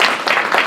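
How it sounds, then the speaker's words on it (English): An audience at a speaker series event breaking into applause, a short burst of continuous clapping from many hands, fairly loud and even. "Maybe we can start with a round of applause to thank"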